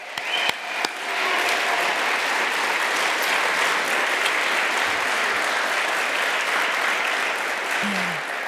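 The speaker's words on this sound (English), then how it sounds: "Applause" Conference audience applauding at a closing session: dense, steady clapping from a large crowd that holds at an even level for several seconds, with a few sharper claps at the start.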